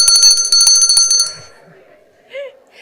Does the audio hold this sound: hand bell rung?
yes